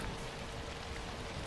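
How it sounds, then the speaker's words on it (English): Rain in the video game ZombiU, a faint, even hiss of falling drops that holds steady across the whole stretch with no voices over it. "let's get out of this rain for a moment"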